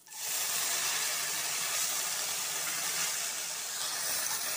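Chopped onion and curry leaves hit hot oil in a pan for mackerel thoran, bursting into a sudden, loud, steady sizzling hiss that carries on evenly, close up with no talking.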